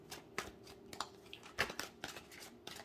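Tarot cards being shuffled by hand, a series of crisp riffling and flicking bursts at an irregular rhythm, close and fairly quiet, with no talking.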